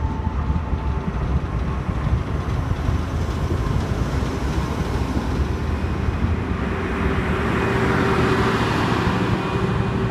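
A TEP33A diesel locomotive hauls the Atyrau–Almaty express train, giving a steady, loud rumble of engine and rolling wagons that holds for about ten seconds and swells slightly near the end, with no talk.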